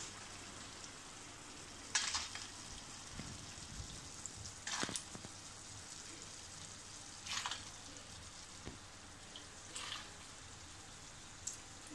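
Sprouted field beans go into a pan of potatoes and sizzle faintly and steadily, with a few brief scraping stirs at intervals.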